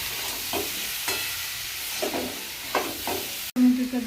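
Spices, salt, turmeric and red chili are stirred in a frying pan, a soft sizzle with several scraping strokes of a spoon, then a sharp clatter near the end.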